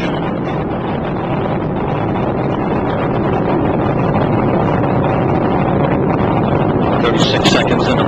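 The Space Shuttle Discovery launch on STS-124 sends out a loud, continuous broadband roar from its main engines, heavy with rumbling wind-like noise that holds steady and swells slightly toward the end.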